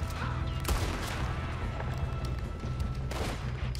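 Gunfire in the video game Red Dead Redemption II: several sharp shots crack over a dense, steady background of game noise, with a couple of louder reports standing out and no clear talk.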